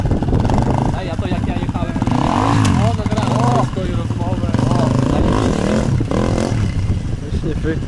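An enduro motorcycle engine revs and rises in pitch, rattling close by, while people talk over the noise.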